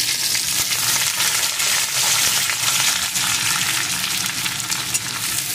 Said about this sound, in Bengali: ক্যাপসিকামগুলো একটু ভেজে নিয়েছি